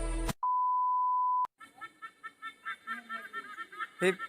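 A long steady beep gives way to a run of rhythmic honking bird calls, repeated close by with no talking.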